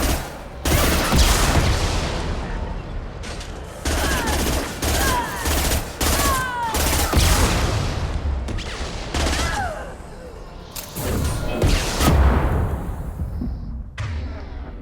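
Rapid, loud gunfire in Mass Effect 2 combat, with bursts of heavy shots and crackling impacts in dense clusters, some sharp single blasts, and faint talk in the background.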